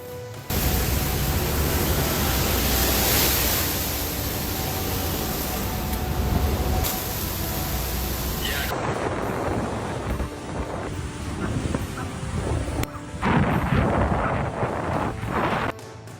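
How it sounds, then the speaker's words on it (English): Powerful storm waves surge inside a ferry and rush through the aisles, a loud continuous roar of churning water and wind-like rushing with crashing bursts, no voices. "a powerful storm sends massive waves surging inside a ferry water, rushing through the aisles"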